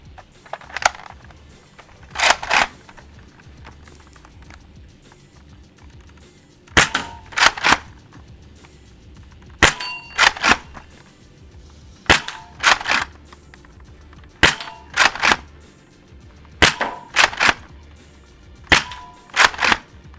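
A Worker foam dart blaster fires heavyweight darts in quick bursts of two or three sharp snapping shots, repeated about seven times with short quiet gaps between volleys, close and loud.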